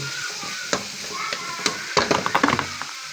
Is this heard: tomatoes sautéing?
yes